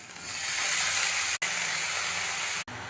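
Onion hitting hot oil already spiced with cumin, asafoetida and a ginger-onion-garlic paste gives a steady, loud hiss of frying that runs throughout and is broken by two abrupt brief cuts.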